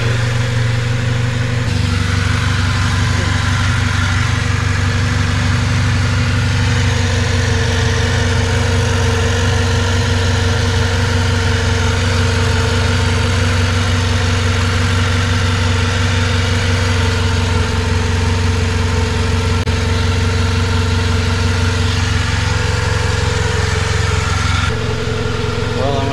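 A 2003 Chevy Cavalier four-cylinder engine idles steadily and loudly for the whole stretch, a constant low drone with no revving and no voices.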